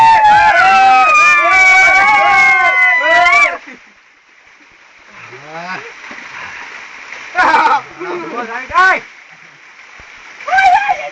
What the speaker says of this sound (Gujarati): પાણી ઉડાડો